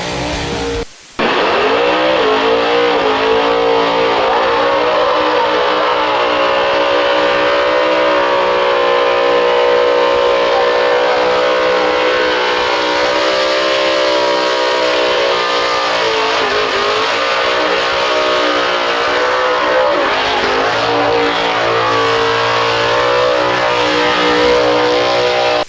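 A Mustang race car engine screams near 8,000 RPM in one sustained high-pitched roar at a car show, very loud and close, with a brief dip partway through.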